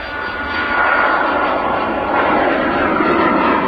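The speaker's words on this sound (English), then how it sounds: "Says a citation on the departure now" Cessna Citation business jet taking off at Manchester Airport, a steady loud engine roar that swells slightly and holds throughout, with no talk.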